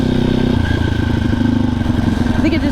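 A Yamaha Banshee ATV engine idles with a rapid, uneven two-stroke putter and clatter, loud and close throughout.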